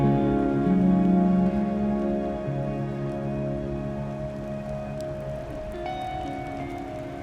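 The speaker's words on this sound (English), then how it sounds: "it's pouring down raining" Heavy rain pours down steadily on a cold 37-degree morning, a dense continuous wash of drops on surfaces that stays loud and even throughout, with a faint low hum beneath.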